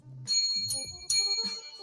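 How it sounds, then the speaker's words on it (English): A bell rings twice as a radio show intro, each strike bright and ringing with a sustained high tone that decays. "I did the bell for Tez because this is Chip Chat."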